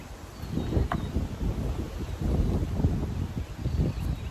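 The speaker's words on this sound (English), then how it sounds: "Wind is still blowing, and I think we still gonna get that storm." Gusty wind blowing outdoors in a garden ahead of an approaching storm, a steady rushing buffet against the microphone that swells and eases over a few seconds, with faint rustling and no voices.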